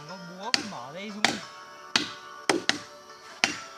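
A banana tree is chopped with sharp, close blows, about six hard thunks at uneven intervals, with a voice heard briefly at the start.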